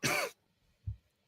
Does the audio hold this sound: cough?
yes